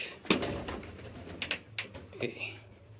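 A homer pigeon coos with low, soft throaty notes amid sharp clatters and rustling of cage handling nearby, all close and moderately loud.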